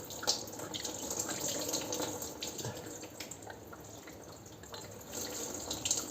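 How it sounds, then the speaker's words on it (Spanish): Antifreeze draining out of a BMW E60's M54 engine block into a container, a steady trickling, splattering flow that continues for several seconds at moderate volume with no talk over it. "Poner una cacharra debajo que siempre nos va a quedar algo de anticongelante ahí dentro y nos caerá ahora."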